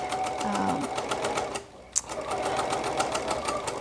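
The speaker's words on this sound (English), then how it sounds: "I will continue the same stitching until I get to the end." A sewing machine runs a steady rapid stitch along a fabric face mask, its fast regular clatter pausing briefly midway with a small click before resuming at the same pace, close and clear, with no speech.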